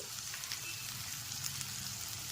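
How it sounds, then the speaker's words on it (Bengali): Tomato sautéing in a pan gives a steady, close crackling sizzle that holds constant throughout, with no voices over it. "টমেটোটা এখানে খুব ভালো মতো কষানো হয়ে গেছে।"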